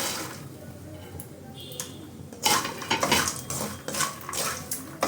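Makhana tossed with salt and chili in a pan, with a metal spoon scraping and clinking against the pan in quick, uneven strokes that grow busier partway through.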